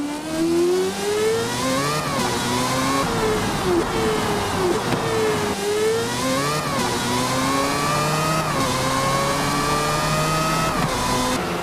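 A Mazda race car engine revs hard at Daytona, its high tone rising and falling through repeated gear changes in a loud, continuous wail with no other sounds.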